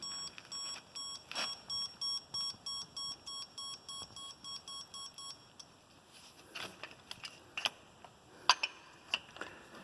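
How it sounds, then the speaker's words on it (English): A torque wrench set to a 70 target gives a rapid series of regular electronic beeps for several seconds, then stops, followed by scattered clicks and clanks of metal tools. "Turn it, it should start beeping."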